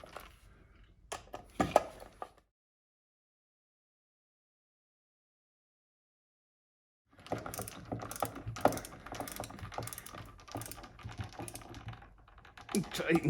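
Screws are driven into a carved wooden wigeon drake hunting decoy body, producing clicking, ratcheting driver sounds in bursts separated by a long silent gap, with a voice talking over part of it.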